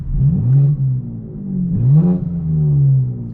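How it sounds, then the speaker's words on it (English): Exhaust of a 2024 BMW M4 Competition xDrive in Sport Plus with valves open, revving up twice in strong rising surges that settle into a deep, steady drone, loud and close with no talk. "my personal preference is Sport Plus in the engine, burbles off, valves open, and that is the cleanest sound"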